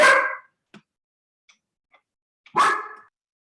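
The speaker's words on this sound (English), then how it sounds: "my dog is busy screaming in the background" A dog barks twice, a loud bark at the start and another about two and a half seconds later, with faint clicks and quiet between, heard alone with no talk.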